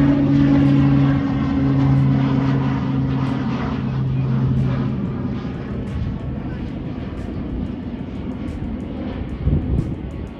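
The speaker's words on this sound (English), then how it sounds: "Then this little private jet with a propeller engine takes off." Small private propeller aircraft taking off at Manchester Airport, a loud steady engine drone with a strong low hum that gradually fades as it moves away.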